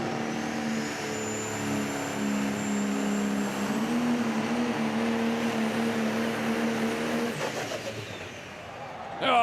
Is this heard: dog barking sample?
no